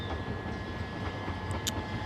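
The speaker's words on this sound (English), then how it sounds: "approaching it now is the slightly delayed 11:54 Southeastern service from London Charing Cross to Hastings" A Southeastern passenger train approaches Tonbridge station on the main line, a faint low rumble of wheels with soft rhythmic rail clatter and a thin squeal near the end, distant and quiet.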